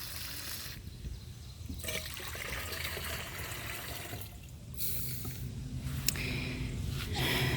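Water and whey pour and slosh into a garden sprayer for feeding tomatoes, a steady close trickling and gurgling with a few brief pauses and no voices.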